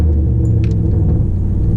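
Steady low engine rumble from a 2007 Pontiac Grand Prix GXP with its LS4 V8 on a slushy snow road, wheels spinning without traction; a continuous, close, even drone throughout with no voices.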